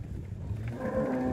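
Cattle lowing and moving as a herd of cows with calves is driven along on a farm, a low moo rising over a steady rumble of hooves and bodies at close range.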